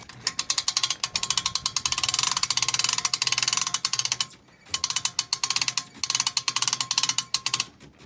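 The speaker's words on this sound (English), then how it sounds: "Keep cranking." A hand crank ratchets steadily while a fishing boat is winched onto its trailer, rapid clicking bursts repeating close up, with a brief pause midway before the cranking resumes.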